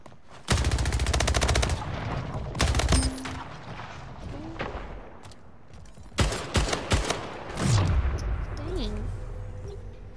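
Rapid automatic gunfire crackles in the arena shooter Splitgate, loud bursts of shots followed by more scattered firing and game effects, while a player talks quietly underneath.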